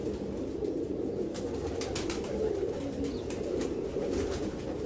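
Soft pigeon cooing drifts through a steady background hum, with a few faint flutters and no voices.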